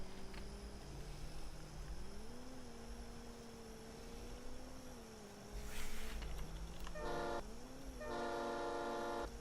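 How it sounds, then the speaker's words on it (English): A loud train horn sounds on a truck in the Farming Simulator 22 video game, with two long sustained blasts near the start and then a few shorter honks toward the end, heard alone over steady engine rumble. "I forgot this has a train horn in it."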